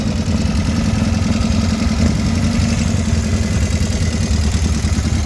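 A Norton Commando motorcycle engine idles steadily up close, a loud, even low-pitched rumble with a constant throb and no pauses.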